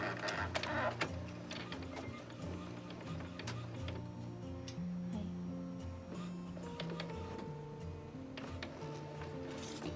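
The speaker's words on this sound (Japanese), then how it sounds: "ちょっと急遽1個だけまた印刷をしてやってみたいと思います" A printer runs while putting a metallic print onto cosplay fabric, giving a faint, continuous mechanical whir with soft rhythmic clicks and shuttling, heard from nearby in a quiet room.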